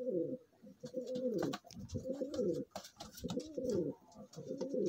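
Border pigeons for sale in Amritsar coo close by in repeated rolling, throaty phrases, several birds overlapping in a steady rhythm with no talking.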